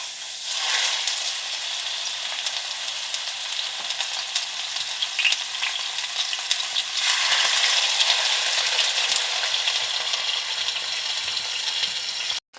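Pork loin sears in a hot pan with a loud, steady sizzle and hiss throughout, close up, with a few faint clinks, and no talking.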